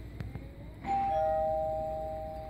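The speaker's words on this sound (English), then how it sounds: "So that's the Newtone door chime system in this house." A NuTone Beacon door chime in a house rings once, a clear sustained bell tone that rings out and fades slowly over a quiet background after a few faint knocks.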